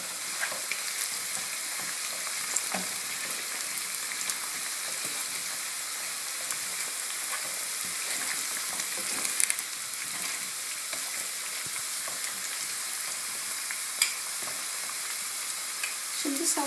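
Small-chopped onions fry in a pan at home for stuffed mushrooms, giving a steady close sizzle and crackle that runs unbroken throughout, with occasional brief pops and stirring clicks and no talking.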